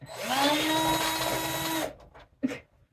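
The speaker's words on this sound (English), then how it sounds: "I'm going to try to drill them back into the wall" A power drill whirs steadily for about two seconds at close range, driving screws into a wall, then cuts off, followed by a brief knock.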